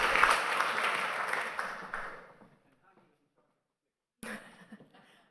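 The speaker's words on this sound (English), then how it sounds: "So give her a big round of applause so we can start." Audience applause at a conference, a short burst of clapping that fades out, followed by silence and then a person speaking.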